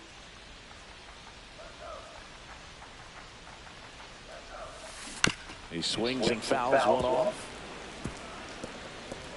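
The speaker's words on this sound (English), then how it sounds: "This rain is not letting up." Steady broadband hiss of rain falling on a ballpark in MLB The Show 25, a Brewers–Cubs game, running continuously under play-by-play commentary with a sharp bat crack midway.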